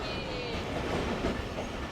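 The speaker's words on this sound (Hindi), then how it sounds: "हैदराबाद से ट्रेन हमारी आहिस्ता आहिस्ता निकल रही है" Tezgam passenger train slowly departing Hyderabad station, heard from inside as a continuous close rumble of wheels and carriage noise with faint rail squeals.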